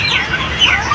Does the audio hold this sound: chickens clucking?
yes